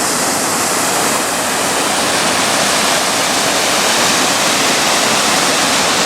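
Dijandi Falls in Iceland, a loud, continuous roar of crashing water heard close up, steady and unbroken throughout with no voices.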